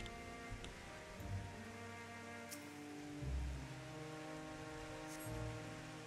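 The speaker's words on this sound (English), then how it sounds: "The rain is very loud" Steady rain patters in the Final Fantasy XIV game world during an Endwalker journey to Thavnair. It is a continuous soft wash of drops, with faint game music and tones beneath it.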